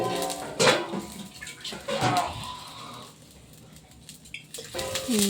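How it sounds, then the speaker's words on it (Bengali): Water is poured into a pan of tempered spices, giving a couple of short, loud splashing hisses mixed with pan clatter, followed by quieter bubbling and occasional voices in the background. "ফোড়ন করার পরে দিয়ে দিল জল"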